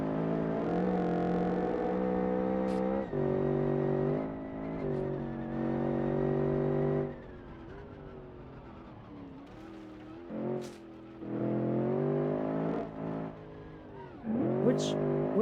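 A car engine revs high at 7,000 RPM in a driving game, a loud, strained drone that rises and falls in long stretches with short gaps and some tire squeal, while a voice talks over it.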